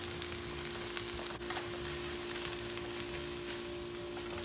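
Bacon and onions sizzle in a pan on an electric stove set to medium high, a steady soft crackling hiss with scattered small pops and no talking.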